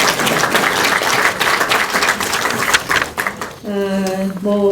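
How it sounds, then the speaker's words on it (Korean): A room of party lawmakers in the National Assembly applauds their leader, with loud dense clapping that thins out near the end as a voice begins speaking. "그래서 우리 당대표님께 힘내시라고 박수 한번 쳐주십니다"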